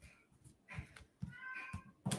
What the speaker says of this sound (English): my cat's in the back, meowing.